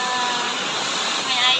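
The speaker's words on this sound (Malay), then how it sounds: "Kita dekat Jelawang Waterfall." Water rushes in a steady, broadband roar at Jelawang Waterfall during a mountain hike, loud and close throughout.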